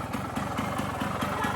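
A Yamaha motorcycle engine runs close by with a throaty, pulsing putter at a steady idle-like rhythm, loud and alone without talk.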